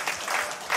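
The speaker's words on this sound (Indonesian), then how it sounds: "Boleh tepuk tangan?" A church congregation breaking into applause, a brief dense burst of many hands clapping together, fairly loud and close.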